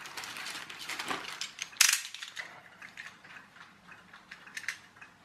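Snipping a short piece off a Poundland Rocket Deck fingerboard or bike set with a cutter: a sharp mechanical click and crunch near the middle, amid small ratchety handling noises, close and fairly quiet.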